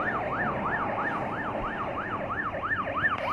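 An ambulance siren wails in a steady rising-and-falling sweep through heavily congested city traffic, loud and continuous over a low rumble of engines.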